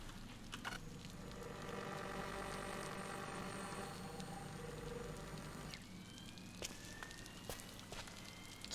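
Steady rain falls in the video game Scanner Sombre, a dense, even hiss over a low continuous hum that holds for the whole stretch with no voices.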